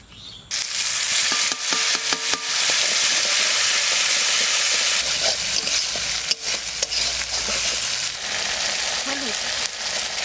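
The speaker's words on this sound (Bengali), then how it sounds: "তেজপাতা, শুকনো লঙ্কা, জিরে, এই বাটা মশলাটা দিয়ে দেবো।" Bay leaf, dried chilli, cumin and ground spice paste hit hot oil for a red singhi fish curry. The loud sizzle starts abruptly and roars on, with scraping stirs and occasional knocks against the pan.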